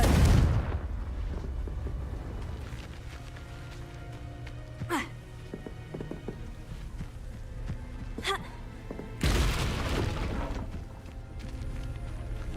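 Confringo blasting spell in the Hogwarts Legacy video game: a few sharp explosive bursts, one near the start and another around ten seconds, with smaller crackling hits between, over a quiet low ambient hum.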